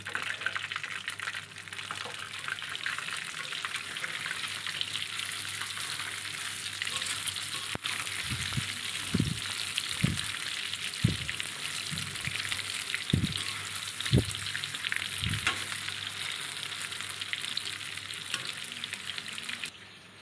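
Chicken pieces deep-frying in hot oil for chilli chicken give a steady, dense sizzle throughout, with a handful of soft low knocks from a utensil in the pan midway.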